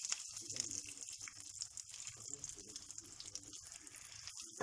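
Eggplant slices coated in corn flour fry in hot oil in a pan, giving a faint, steady sizzle with irregular crackles and pops, heard quietly and close.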